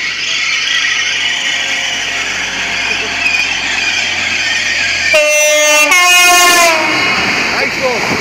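Freightliner 66525, a British Class 66 freight locomotive, passing Brough station with steady rolling rumble, then a loud two-note horn blast lasting about a second near the end, followed by continued wagon noise.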